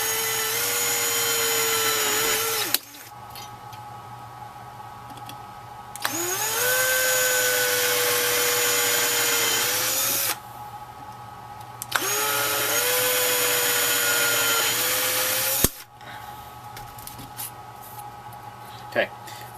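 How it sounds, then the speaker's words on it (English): A power drill with a 3/32 bit bores through the canopy of a Ziroli Texan model plane in three loud, sustained bursts, each with a whining pitch that rises and then holds, separated by short pauses. "we'll just go ahead and drill right through those marks"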